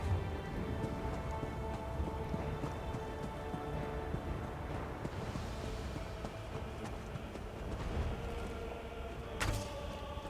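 Storm rain in The Elder Scrolls Online, a steady wash of rainfall patter spread evenly across the whole stretch, with a brief sharp knock near the end and no talking.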